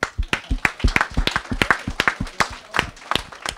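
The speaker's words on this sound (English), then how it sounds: "give yourselves a round of applause right now" A small audience at a university alumni career event claps for itself, sparse and uneven, with separate sharp claps close by rather than a dense roar.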